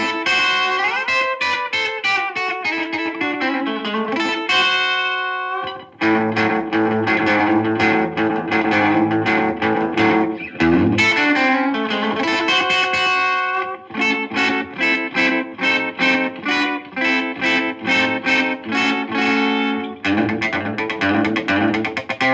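An electric guitar plays rockabilly phrases through an SIB Mr Echo delay pedal, each note trailing distinct repeating echoes, loud and continuous with a short pause partway through.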